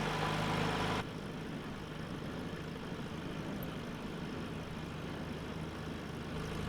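Engine of a pusher seaplane idling in Microsoft Flight Simulator, a steady low rumble that drops slightly in level after the first second and then runs on evenly without talk.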